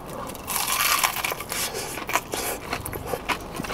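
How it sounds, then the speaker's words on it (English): Fried chicken is bitten with a loud, crackling crunch up close, with a burst of crispy cracking and scraping as the coating breaks, followed by softer chewing crackles. "Let's see if I can get a good crunch of this."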